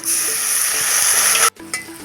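Water hitting frying chili spice paste with turmeric and red chili colouring, a loud hissing sizzle that cuts off abruptly, then a quieter sputter returns.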